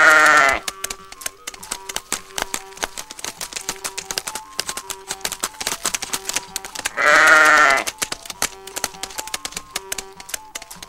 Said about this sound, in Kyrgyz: Тоолорго койлорду айдап кетет.